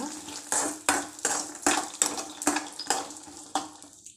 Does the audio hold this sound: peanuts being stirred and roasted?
yes